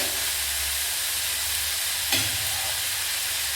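Onions frying in a pan for a lady finger fry, a constant loud sizzle and hiss with one brief stirring clatter near the end, no voices.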